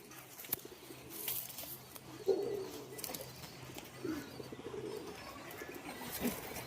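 Pigeons of the Shiyal Kuti breed cooing in a low, soft murmur, with a few brief coos standing out amid faint background noise and no talking.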